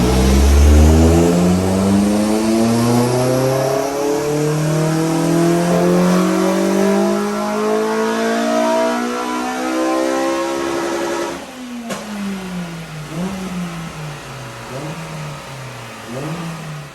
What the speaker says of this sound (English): It's time to do a base run and then get tuning on the old Honda.